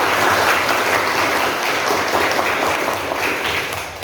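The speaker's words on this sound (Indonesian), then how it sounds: "tepuk tangan untuk diri kita masing-masing." A classroom of students claps for themselves, a dense, even burst of applause from a group that holds steady for a few seconds and then begins to thin.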